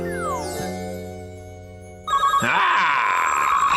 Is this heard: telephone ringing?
yes